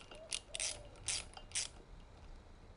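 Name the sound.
ratchet tightening brake line fitting on motorcycle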